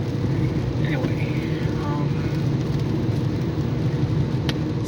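A pickup truck rolls by on a road, its engine a steady low rumble that holds throughout without a clear rise or fade, with faint outdoor background noise around it.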